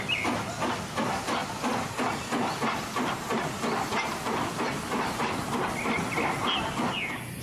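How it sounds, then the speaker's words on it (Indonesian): A train passing nearby, with steady rhythmic clickety-clack of wheels and a hissing rumble, moderately quiet and continuous throughout, with no talking. "Wah, lihat teman-teman, kereta api."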